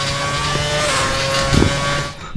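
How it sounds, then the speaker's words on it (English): An F1 car in the racing game F1 2011 skids around the Monaco street circuit, its engine whining steadily with a short scrubbing burst of tyre noise partway through, loud and close, with no one talking. "Oh, nice skidding!"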